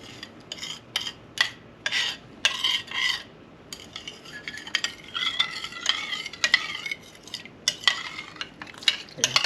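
Spoon stirring cooked rice porridge with chocolate in a pot for champorado, a steady run of scraping, rubbing strokes with a light sizzle underneath, close and continuous with no talking.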